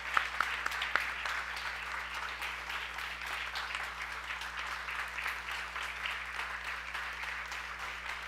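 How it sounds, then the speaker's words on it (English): Another round of applause from an audience after a Harikatha narration on Swami Chinmayananda at Chinmaya Madhuvan, Pennsylvania; a soft, distant wash of clapping sustained over a steady low hum, with a few sharper claps at the start. "Can we hear another round of applause?"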